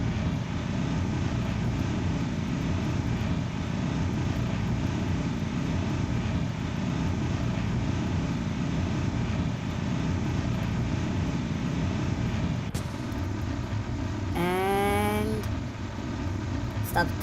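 Rocket engine roaring at full throttle in Kerbal Space Program, a steady loud broadband rumble that runs throughout, with a sharp burst and rising whistling tones near the end.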